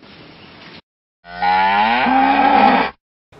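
A single long cow moo, loud and close, sustained for well over a second with a rising pitch, set between stretches of quiet background noise.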